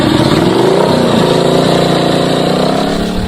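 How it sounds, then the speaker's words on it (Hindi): Motorcycle engines from passing bikes fitted with loud silencers drone and rumble steadily throughout, a continuous close engine roar with shifting pitch and no speech. "हेलो सर डिस्टर्बेंस बहुत आ रही है सर, वो बाइक की ना"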